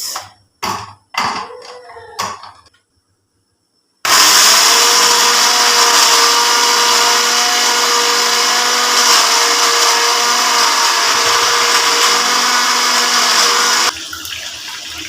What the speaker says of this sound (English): I want to blend the bay and crayfish. Let me blend it.